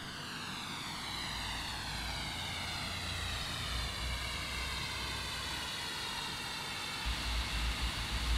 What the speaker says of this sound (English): Alright, engines are firing up.